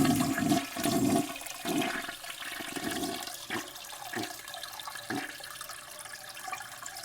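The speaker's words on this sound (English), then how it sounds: "So should I edit in a toilet flush sound?" A toilet flushes with a rushing gurgle of water that swirls and gradually fades into trickling, heard nearby with no talking.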